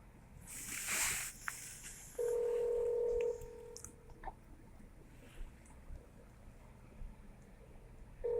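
Telephone keypad tones entering a number on a call to a court phone line: one long steady beep stands out among brief tonal blips and faint handling noise, with no voices.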